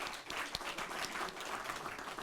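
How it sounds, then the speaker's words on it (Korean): Applause from lawmakers in a party assembly hall during a floor leader election meeting, a dense, even wash of clapping from many hands with a few sharper claps standing out, fairly faint. "이해가 없으시면 모두 큰 박수 부탁드리겠습니다"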